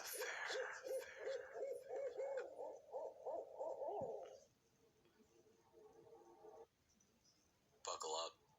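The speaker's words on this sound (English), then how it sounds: "Finding yourself in the talons of an owl in the shadows of the forest moonlight" An owl hoots in a forest at night, a rapid run of repeated hoots close and loud, then quieter calls and a brief burst near the end.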